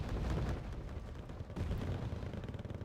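An artillery shell lands in the video game Wargame Red Dragon, giving a quiet, distant rolling boom with a continuous low rumble and scattered crackling.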